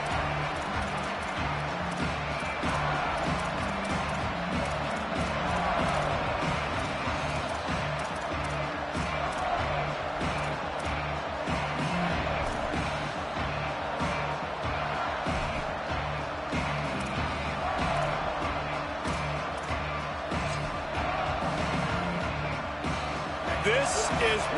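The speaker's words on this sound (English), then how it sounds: "This crowd ready to make its presence known." A steady, dense roar from a stadium crowd at a college football video game, Alabama against the Buckeyes, runs without a break under continuous play-by-play commentary.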